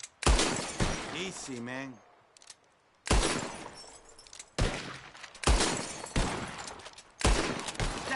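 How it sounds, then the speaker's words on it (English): Gunshots ring out in a bottle-shooting contest in the video game Red Dead Redemption 2, a series of loud, sharp bangs in uneven bursts with brief crashes of breaking glass; someone speaks briefly between shots. "Whoever shoots more of these bottles wins."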